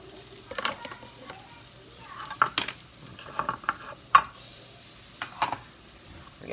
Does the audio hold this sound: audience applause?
no